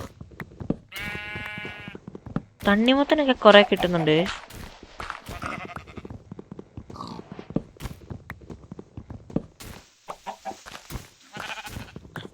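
Minecraft sheep and lambs bleating in bursts, a high wavering bleat early, with chicken-like clucks and other farm animal calls nearby, while someone talks over the game sounds.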